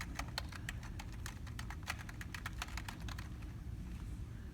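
Fingers type quickly on a computer keyboard for a Google search, a run of rapid, light clicking keystrokes at close range that trails off near the end.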